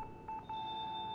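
An electronic beeping alert in the video game Fatal Frame IV: Mask of the Lunar Eclipse holds as a steady, thin tone for about a second under a low background hum.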